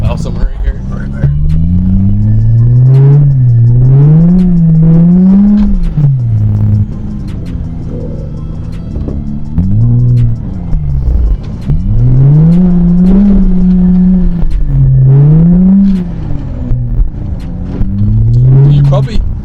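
A single-turbo BMW E92 drifts across a frozen lake, its engine repeatedly revving up and falling back in long wavering surges, loud and close, with tire slip audible between pulls.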